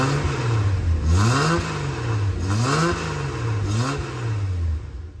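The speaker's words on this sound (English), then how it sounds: "when I crank the engine" A 1976 Datsun 280Z engine, just fitted with a new fuel tank, is cranked and revved, its note swelling and dropping back in three repeated close, loud rev cycles.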